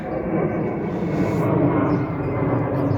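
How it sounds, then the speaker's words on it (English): A steady broadband roar of an airplane passing overhead, moderately loud and continuous, with no voices. "There's a plane going over, as you can hear."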